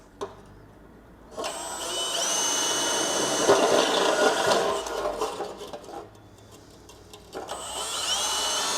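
A power drill whines in two long bursts drilling holes on a 2017-2025 Honda Ridgeline during a lift kit install, revving steadily with a pause between, close and fairly loud.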